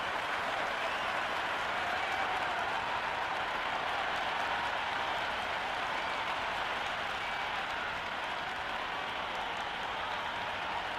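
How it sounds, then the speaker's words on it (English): Big Bash League cricket crowd in a stadium before the first ball of a Perth Scorchers versus Sydney Sixers match, with steady, dense applause and cheering rolling on throughout at a distance, never pausing. "this crowd is already making it hard for me to be heard"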